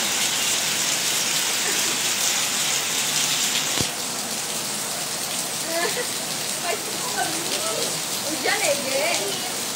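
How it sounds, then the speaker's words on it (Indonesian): Rain falling steadily at the outdoor Studio Alam Gamplong in Yogyakarta, a dense close hiss of drops on surfaces throughout, with people talking over it in the later part. "Nah, di wisata alam ini masih hujan."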